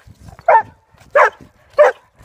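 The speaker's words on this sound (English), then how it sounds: "here comes my dog" A pet dog barks three times close by, each a short, sharp bark with even pauses between them and no talking.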